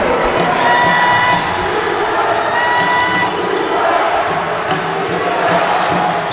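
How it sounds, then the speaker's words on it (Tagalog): A basketball crowd at a Paranaque vs Pampanga game cheers and shouts loudly and steadily throughout, with whoops and a bouncing ball audible amid the arena noise. "buhay na ang crowd ng Pampanga"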